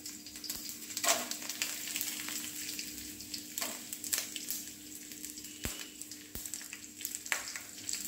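Garlic and dried chillies frying in hot oil for Andhra pappu charu, a steady close sizzle with occasional stirring clicks and sharp spatters throughout.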